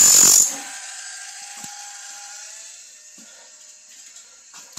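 A sawmill blade sharpener runs in a workshop, opening with a loud grinding burst that gives way to a steady, fainter mechanical whine and hum with occasional small clicks.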